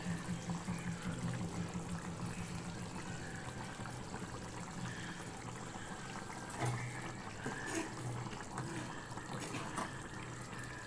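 Dried fish curry (karuvattu kuzhambu) simmers in a pot, giving a continuous soft bubbling and gurgling hiss that stays fairly even throughout, with a few slightly louder pops.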